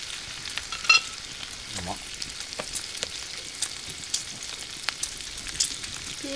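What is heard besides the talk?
vegetables sizzling while being grilled outdoors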